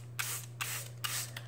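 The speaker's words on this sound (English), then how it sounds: "I'm going to spray water right onto my coffee filter" A hand spray bottle mists water onto a coffee filter during an art lesson, giving three or four quick, close hissing spritzes evenly spaced over a low steady hum.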